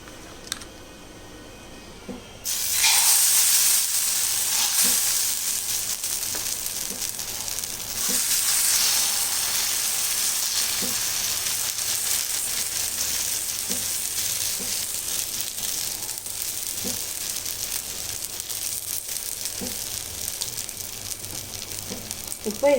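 Adai dosa batter of mixed lentils sizzles steadily on a hot pan, a loud continuous frying hiss that swells midway with a few small clicks scattered through it.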